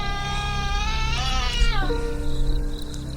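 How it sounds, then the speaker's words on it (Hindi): A cat cries loudly near a house at night, with a long, rising and falling wailing tone over a low steady hum and no talking. "उसी रात को घर के पास में ही वो बिल्ली जोर जोर से रोने लगी"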